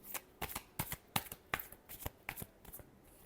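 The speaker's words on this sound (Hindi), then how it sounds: "last shuffle," Tarot cards being shuffled by hand, a run of about a dozen crisp riffling bursts in steady rhythm, close and fairly quiet, with no talk over them.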